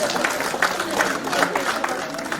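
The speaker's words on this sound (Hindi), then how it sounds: "चलिए ताली बजाइए।" An audience at a Hindi love-poetry recital claps in a dense, steady burst of applause, sustained at moderate loudness across the whole moment with no talk over it.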